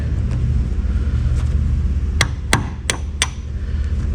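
A metal punch is struck sharply four times with a hammer, driving it through the carpet of a 1966 Mustang, the close, hard blows spaced under a steady low rumble.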